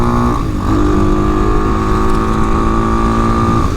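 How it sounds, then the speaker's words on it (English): A TaoTao 250 Chinese dual sport motorcycle cruises along, its engine a loud, close, steady droning hum with a slight rise in pitch early on, and no voices. "It is nice though to be able to take the bike out for a ride today."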